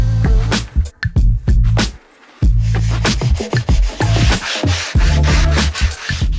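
Parkside router fitted with a rounding bit smoothing a sawn wood edge, a close, loud, steady rasping whir with repeated scraping strokes and one brief pause partway through.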